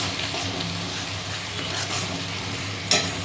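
Masala for a jackfruit kofta curry fries in oil with a continuous dense sizzle and the scrape of stirring, ending in a brief sharp clink, with no talking.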